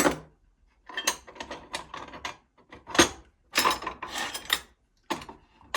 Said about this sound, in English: I'm going to take the wrench out of here